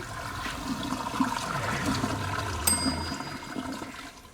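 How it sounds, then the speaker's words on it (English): A toilet flushes with a steady, close rush of water, and a short metallic ding rings out midway through. "By what we flushed down the toilet."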